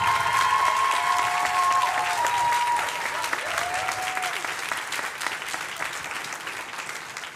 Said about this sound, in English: Y'all can applaud to your heart's content.